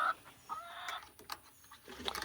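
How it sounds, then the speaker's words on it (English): Backyard homestead chickens in Central Texas clucking close by, a few short irregular squawky clucks and bursts scattered over quiet background. "Misbehaving chicken."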